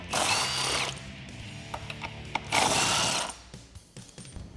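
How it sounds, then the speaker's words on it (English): An impact wrench with a 21mm socket removing lug nuts from a Jeep Wrangler JL spare tire mount, two loud close whirring bursts with ratcheting rattles between them. "I'm using our key in a 21mm socket as well as our impact wrench. You can just take off those 3 lug nuts there."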